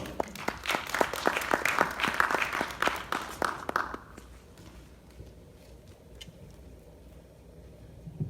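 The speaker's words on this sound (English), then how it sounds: "Let's give her a round of applause." An audience claps at a Miami-Dade Chamber of Commerce event, a burst of applause for about four seconds that quickly fades to quiet room tone with a few scattered claps.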